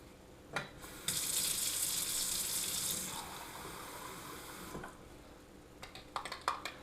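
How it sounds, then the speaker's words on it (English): A faucet turns on and Milwaukee tap water runs steadily for about two seconds, hissing into a container, then stops, followed by a few clicks and clinks. "Milwaukee tap water"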